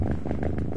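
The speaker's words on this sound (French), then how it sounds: "Un chat content, un peu comme Arthur, n'est-ce pas Arthur ?" A contented cat purrs steadily and close up, a low continuous rumbling with no other sounds.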